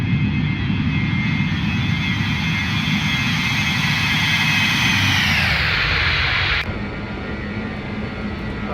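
Jet engines of a BAe 146 in a flight simulator game drone loudly during a flyby, holding a steady roar with a whining tone that drops in pitch as it passes, then continues more steadily.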